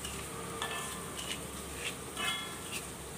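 Hands mix rice flour with jaggery and grated coconut in a bowl, making a steady, gritty rustle with soft scrapes and squishes, close and continuous, with no talking.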